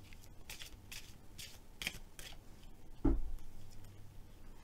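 Oracle colour cards are shuffled and drawn by hand, giving soft close swishes and flicks in several short bursts, then a brief louder bump near the end over a low hum.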